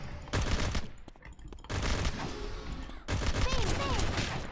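Rapid bursts of gunfire, loud and close, come in several volleys separated by short gaps.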